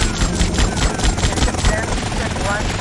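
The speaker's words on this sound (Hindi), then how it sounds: "हेलीकॉप्टर आ रहा है" A helicopter approaches in the video game GTA Vice City, its rotor chopping in rapid pulses at a steady loud level, while a voice talks over the game audio.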